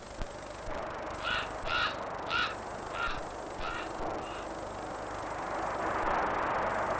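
Ravens or crows harassing a golden eagle in high mountain valleys: a series of about six harsh, hoarse caws spaced roughly half a second apart, moderately distant over a steady wash of background noise.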